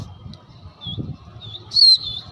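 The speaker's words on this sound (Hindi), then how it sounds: "ये आया जी कबूतर" Domestic pigeon landing at a pigeon keeper's loft in Usmanpur, Delhi: a few faint chirps over low background rumble, then a brief bright flutter of wings.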